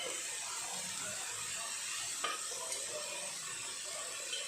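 Spices frying in oil for a country chicken curry being stirred in a pan, a steady close sizzle with a brief spoon scrape against the metal partway through, no talk.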